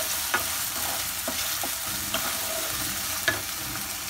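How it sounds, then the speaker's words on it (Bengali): Onions frying lightly in a pan give a steady, close sizzle with occasional soft stirring clicks throughout. "এবার পেঁয়াজ আমি হালকা ফ্রাই করে নেবো"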